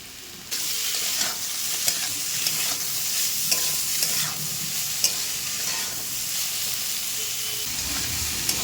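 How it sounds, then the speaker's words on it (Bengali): Cauliflower and potato curry fries in a pan over a gas flame, a continuous loud sizzle and hiss with repeated scraping knocks of a spoon stirring at irregular intervals. "গ্যাসের ফ্লেমটা বাড়িয়ে দিয়ে এবারে কিন্তু খুব সুন্দরভাবে 4-5 মিনিট ধরে ফুলকপি আর আলু আমি খুব সুন্দরভাবে রান্নাটা করে নিচ্ছি"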